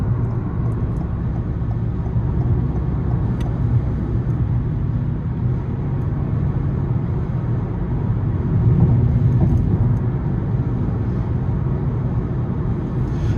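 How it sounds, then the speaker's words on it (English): A 2021 Toyota Corolla LE cruising at highway speed, its steady low engine drone and road rumble holding even throughout, with a slight swell near the end and no talking. "as you can see, we're just cruising on the highway"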